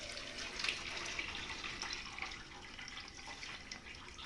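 Water from a siphon hose pours steadily into a small container, a continuous close trickling splash with faint drips, quiet and alone.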